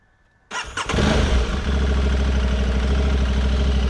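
A warm Aprilia Tuareg 660 motorcycle engine cranks and fires after a brief quiet moment, revs up sharply, then settles into a loud, steady idle.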